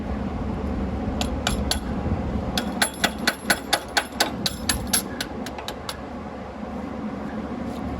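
Hammer tapping a pinion seal into place on a 1966 Ford Country Sedan wagon, a run of sharp metallic taps in a steady rhythm, fairly close, over a low garage background.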